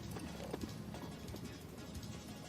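Horse moving sideways in a leg yield, faint hoof clip-clops in an irregular rhythm over a quiet background.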